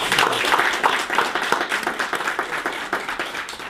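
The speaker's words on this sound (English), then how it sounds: "deserves a round of applause for all of her efforts" An audience applauds at a committee meeting, a steady round of clapping that holds at fairly even loudness for the whole span, near and continuous with no voices over it.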